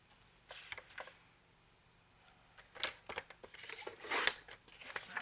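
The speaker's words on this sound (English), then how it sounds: "I'll trim off the top first. And then cut this in half." Paper being trimmed and then cut in half with scissors during a crafting session, a few short crisp snips and slices, close and fairly quiet.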